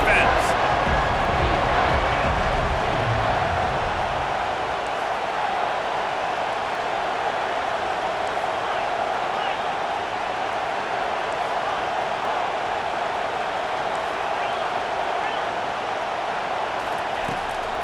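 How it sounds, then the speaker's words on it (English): Stadium crowd at a college football game against Ole Miss roars steadily behind the defense on a big third down, a broad sustained wash of cheering with a commentator's voice over it. "Big third down as the crowd gets behind this defense."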